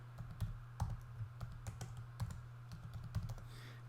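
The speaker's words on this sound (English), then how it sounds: "type global color" Keys on a computer keyboard are tapped in quick, uneven bursts of soft clicks, close and fairly quiet, with no talking.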